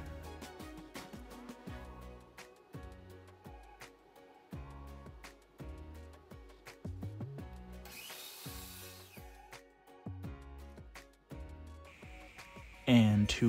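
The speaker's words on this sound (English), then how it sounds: "I am cutting the wood planks at about 15 inches here." Power tool cutting reclaimed wood planks, a series of sharp repeated bursts and rasping cuts at an irregular pace, close by, with a louder rushing hiss near the middle and a speaking voice at times.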